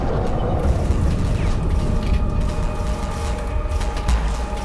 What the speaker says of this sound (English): Let's smart bomb it and freeze it.